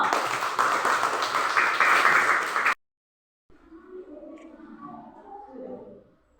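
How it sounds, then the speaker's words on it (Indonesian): A classroom of students claps together in a dense burst for about two and a half seconds, stopping abruptly; after a short silence, quieter children's voices and chatter follow. "Tepuk tangan dulu."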